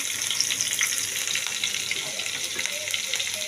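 Garlic sizzles in oil and butter in a pan for a chicken dish: a faint, steady, bright hiss with light crackles running unbroken.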